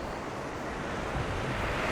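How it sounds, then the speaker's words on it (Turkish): Sea waves beat against the shore below near Pigeon Island Castle in Kuşadası, Aydın, producing a steady broadband wash of surf with wind noise that keeps up unbroken and fairly loud throughout, with no voices. "dalgalar kıyıları dövüyor."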